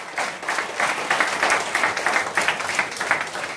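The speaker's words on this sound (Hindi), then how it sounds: "जोरदार ताली के साथ इनवाइट करता हूं" An audience at a live product demonstration in a cinema hall claps steadily, a dense sustained wash of applause that swells and pulses over a few seconds with no voices on top.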